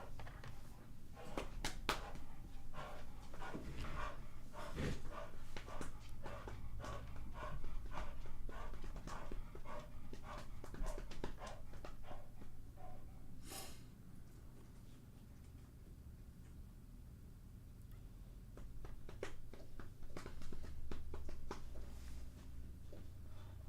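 A dog with a ball in its mouth breathes heavily, a rapid rhythmic panting, close and steady, that continues throughout with only a brief lull.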